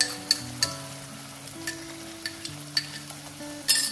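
Tomato, ginger, garlic and chili paste fries in a pan while being stirred, giving a soft, steady sizzle. Light spoon taps and scrapes are scattered throughout, and no one speaks.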